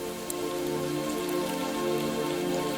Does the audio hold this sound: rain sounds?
yes